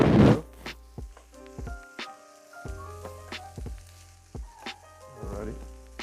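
Red beans and rice are stirred in a pot with scattered scrapes and thunks of the spoon against the metal, under a background of steady tonal music.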